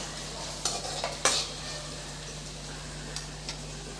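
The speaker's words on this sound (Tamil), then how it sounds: "நல்லா வதக்கி விட்டுக்கலாம்." Chopped carrots for corn rava upma are sautéed and stirred in a pan, giving a soft steady sizzle over a low hum, with a few sharp spoon-against-pan clinks near the start and lighter taps later.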